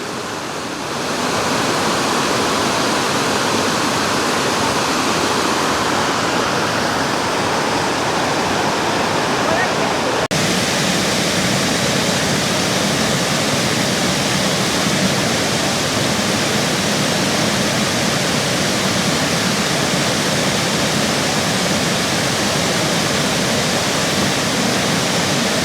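Tat Kuang Si waterfall roars in a loud, unbroken rush of falling water, a broad steady wash of noise heard close for the whole stretch without talk.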